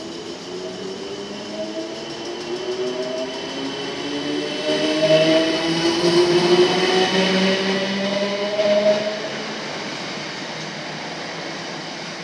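A train pulls out of New Malden station on the South Western Main Line, its steady rail rumble and wheel noise swelling midway, then easing back to a constant drone, with no voices.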